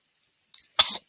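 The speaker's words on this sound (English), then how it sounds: "Cough, cough." A single person coughs twice, close and sharp: a small throat catch first, then one fuller burst, with silence around both.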